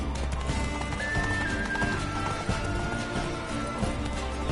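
In The Witcher 3, a horse gallops with a fast, steady clip-clop of hooves under a rumbling game soundscape, with a brief whistle-like tone partway through.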